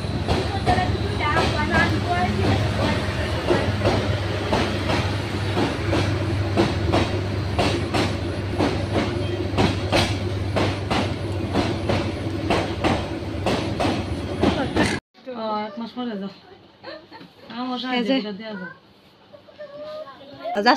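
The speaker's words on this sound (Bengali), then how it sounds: "দেখলাম যে ট্রেন যাইতেছিল, তো তাই ভাবলাম যে কিছুটা ট্রেনের ভিডিও করে নিই" A train rolls past close by with loud continuous rumble and rhythmic clickety-clack of wheels for about fifteen seconds, with voices mixed in, then it cuts abruptly to quieter indoor talking.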